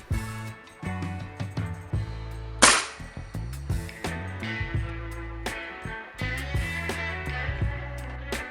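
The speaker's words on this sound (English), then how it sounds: "my dad can use the nail gun to attach the third row to the wood beam" A nail gun fires into a wood beam during house construction, fastening rows to it with a rapid series of sharp, loud bangs over a steady droning background.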